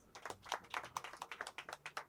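An audience claps for Mr. Balya at a business gathering in Uganda, a quiet, fairly distant round of scattered hand claps in an uneven patter with no talking.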